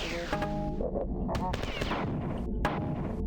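Rapid SMG bursts in the Marathon Infinity shooter game, loud repeated gunfire crackling in quick runs over a dense layer of game noise, with voices mixed in.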